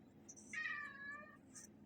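Two kittens meow at feeding time, one clear drawn-out meow in the middle with a few fainter mews around it, close by and quiet, no talking.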